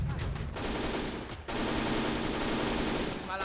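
Sustained gunfire in the World War II strategy game Gates of Hell, a dense, loud barrage of machine-gun and rifle fire with a brief gap, heard over a player voice.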